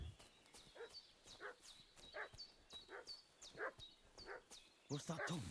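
A dog in a video game barks repeatedly, a series of about seven moderately distant barks at a steady pace, with game ambience and a short burst of louder sound at the end.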